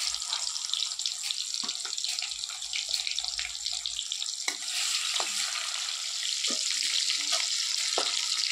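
Fish fries in hot mustard oil in a wok with a steady, close sizzle, broken by a few sharp clinks and taps. No one speaks.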